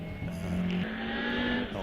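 A vintage Frazer Nash race car at a hillclimb does a burnout, with its engine held at a loud sustained pitch and tyres squealing, close and continuous with no speech.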